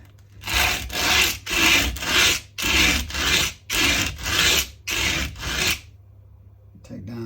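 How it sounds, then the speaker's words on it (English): Steady back-and-forth rasping of a sanding block on wood while setting up a Rally Explorer, about nine even strokes in a regular rhythm, close and loud, then a pause. "sanding block"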